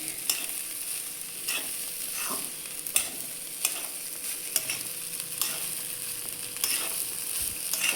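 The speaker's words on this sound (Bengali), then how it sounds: "এখন খালি ভাজা হইতে একটু সময় 2 মিনিট" Pulao with coriander leaves frying in a pan, a steady bright sizzle broken by several sharp scrapes and clinks of a spoon stirring against the metal, close and continuous with no talking.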